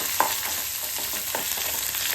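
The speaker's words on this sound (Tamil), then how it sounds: "பூண்டு, காஞ்ச மிளகாய், கருவேப்பிலை நல்லா எண்ணெயில் பொரிஞ்சு கோல்டன் ப்ரௌன் வந்துட்டாங்க." Garlic, dried chillies and curry leaves fry in oil until golden brown, with a steady close sizzle, a few pops and the occasional stirring scrape, no voices.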